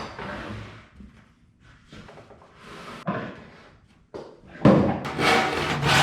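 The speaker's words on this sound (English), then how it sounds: "It's so rewarding simply sawing to a line" A handsaw cuts a wooden board to a marked line while building a step stool, rasping strokes coming in uneven bursts close up, loudest near the end, with no speech.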